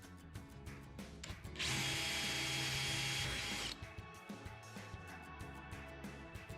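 A power drill bores out a rivet holding the bumper cap on a Coleman or Fleetwood pop-up camper, one loud steady whine of about two seconds between quieter clicks and handling noises.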